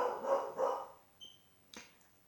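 A dog barking from another room in a home, two muffled, rounded barks followed by a couple of faint sharper yips, heard at a distance and fairly quiet.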